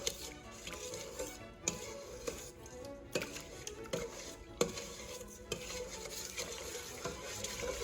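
Borax being stirred into hot water in a bowl, a utensil scraping and clinking against the sides in steady, irregular taps close by, with no talking.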